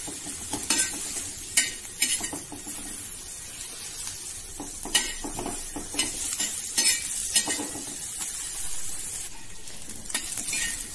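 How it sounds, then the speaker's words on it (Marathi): Sliced onion fries in oil on an iron griddle, giving a continuous sizzle broken by repeated scraping and stirring strokes of a spatula that come in uneven bursts, close and clear with no talking. "या कांद्यावर थोडं तेल घालू आणि अगदी खमंग हा कांदा आपल्याला भाजायचा आहे।"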